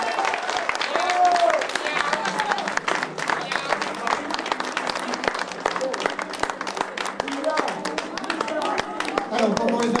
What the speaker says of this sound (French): Allez, une pluie d'applaudissements, s'il vous plaît.